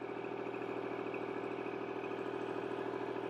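A tractor engine idling as it drives, a steady mid-pitched rumble with a light mechanical clatter, even and continuous at moderate distance.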